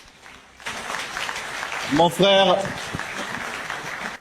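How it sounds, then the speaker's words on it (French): A crowd applauds and cheers for the models at a football jersey launch, sustained clapping with a voice rising loudly over it midway. "je pense que les mannequins qui sont là méritent encore des acclamations."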